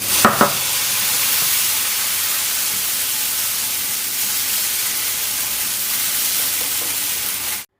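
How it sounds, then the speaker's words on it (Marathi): Pumpkin batter hisses and sizzles on a hot oiled cast iron griddle, a steady close frying hiss lasting throughout after a couple of brief clatters at the start, then cutting off at the end. "एक पळी बॅटर घालून ह्याला हलकंसं फिरवून घ्यायचं आहे"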